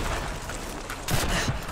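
A single sharp gunshot from the Call of Duty 2 video game, played with the Back2Fronts mod, bursts out loud over a steady low background, followed by a couple of dull thuds.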